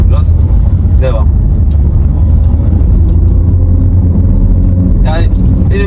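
A diesel car climbs a hill in first gear at about 3000 rpm, its engine droning loud and steady up close, with brief snatches of voice over the constant rumble.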